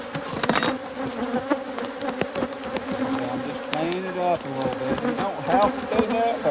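Honey bees buzz steadily around a hive as comb is pulled during a first honey harvest, a dense swarm hum close by with someone talking over it.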